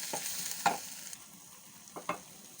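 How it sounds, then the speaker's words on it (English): Onions frying in a pan, stirred a few times, with soft scraping strokes over a faint steady sizzle and no talking. "cook onions till it changes color"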